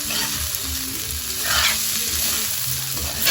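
Garlic fried rice stir-frying in chicken oil gives a loud, steady sizzle with scraping stir strokes throughout, close and alone without talk.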